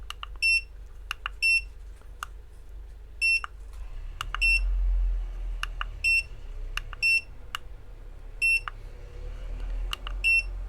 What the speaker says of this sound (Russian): Тут что-то пищит. Тут тоже что-то пищит.